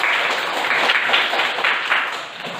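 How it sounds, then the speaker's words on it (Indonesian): A classroom of students claps together after a group presentation, a dense, steady patter of hands held for a couple of seconds before tapering off, with no talk over it. "Kita berikan tepuk tangan dulu, semangat."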